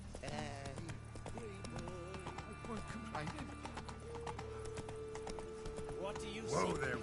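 A horse in a video game gallops with quick rhythmic hoofbeats and snorts under game music, while someone talks over it and the horse whinnies near the end.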